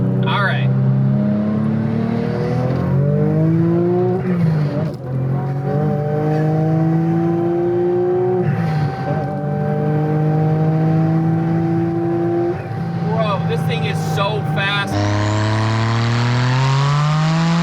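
A 700 hp Porsche 996 Turbo accelerating hard, its engine climbing repeatedly through rising gears with loud sustained revs and brief dips between shifts, heard from inside the car with people talking over it.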